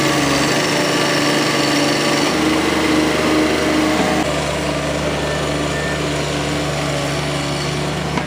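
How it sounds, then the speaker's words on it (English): An engine-powered drill bores dirt out of the ground beside a house wall, a continuous loud, high-revving motor drone that shifts slightly in pitch partway through, close and unbroken. "we're just going to drill the dirt out of the ground"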